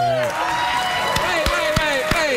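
A studio audience cheers and whoops steadily through the whole stretch, with a loud crowd wash and a few sharp claps or shouts standing out above it.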